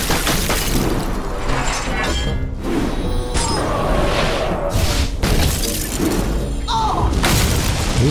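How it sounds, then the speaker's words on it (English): A freeze spell strikes an enemy minion in the card game Hearthstone, producing a bright shattering, icy crash with a heavy thud. The effect plays loudly over a continuous game soundtrack. "Deal 2 damage to a random enemy minion and freeze it."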